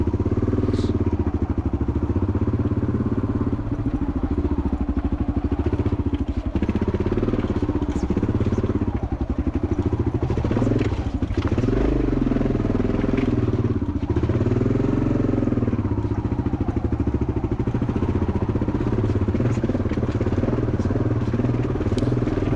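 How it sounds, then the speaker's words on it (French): A motorcycle engine idles close by in a steady, loud, rumbling chug on a rally raid in Morocco, with scattered clattering and rattling layered over the running motor throughout. "Moto démarre bien, hein, on peut le voir."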